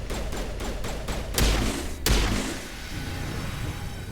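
Gunfire in the video game Mass Effect Legendary Edition: a rapid burst of sharp shots, then two heavy, booming impacts about half a second apart, followed by lingering rumble.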